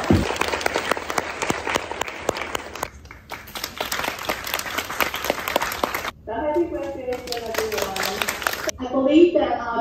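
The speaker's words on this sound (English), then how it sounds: "How about a big round of applause for your staff?" A graduation audience at an English department ceremony at Fu Jen Catholic University applauds the staff, steady crowd clapping broken by gaps, with talking and a voice joining in near the end.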